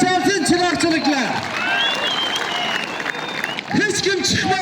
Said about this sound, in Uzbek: Rost bo'lsa bitta qarsak chalsin chiroqchiliklar